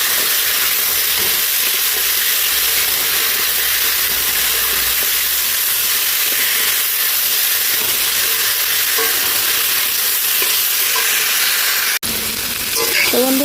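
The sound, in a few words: spices frying for rohu fish curry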